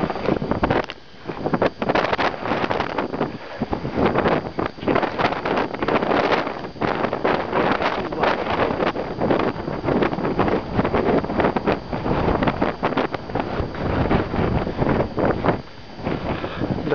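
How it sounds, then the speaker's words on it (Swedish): Strong wind blasting across a snowy Swedish mountain in a blizzard, roaring and buffeting the microphone in continuous gusts for the whole stretch, loud and close. "Och det blåser frisk vind på fjället."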